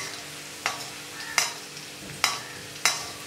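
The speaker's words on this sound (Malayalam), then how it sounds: "ഇനി നമുക്ക് ഇഞ്ചി വറുത്തെടുത്ത എണ്ണയിലേക്ക് ഒരു 10 പച്ചമുളക് വട്ടത്തിൽ അരിഞ്ഞതും കൂടി ചേർത്ത് അതും കൂടി ഒന്ന് നന്നായിട്ട് വറുത്തെടുക്കണം." Sliced green chillies fry in oil previously used to fry ginger, with four sharp, evenly spaced scrapes of a stirring spoon over a faint, low sizzle.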